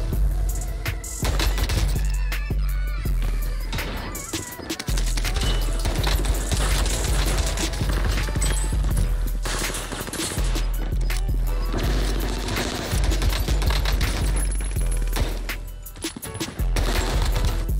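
Pistol gunfire in the video game Warzone, dense rapid shots and impacts layered over a loud, continuous game soundtrack throughout, with the bursts pausing briefly at a few points.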